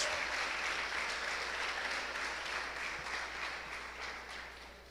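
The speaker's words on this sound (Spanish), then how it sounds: "Dale fuerte ese aplauso al Señor." A church congregation applauds in a steady wash of clapping at moderate distance that slowly fades over a few seconds.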